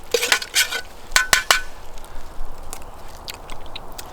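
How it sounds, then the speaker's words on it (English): A spork stirring teriyaki sauce with brown sugar in a small pot at a campfire, a few quick clinking scrapes of plastic against the pot at first, then softer intermittent stirring sounds. "I'll just use my spork to mix all that up"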